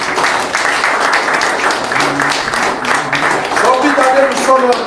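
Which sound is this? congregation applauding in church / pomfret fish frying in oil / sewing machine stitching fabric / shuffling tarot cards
congregation applauding in church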